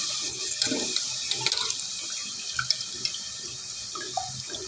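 Water trickles and splashes as it is poured over soaked rice in a pressure cooker, a steady close pour with small drips and splashes throughout.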